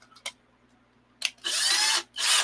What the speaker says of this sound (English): I'm going to attach the drill to it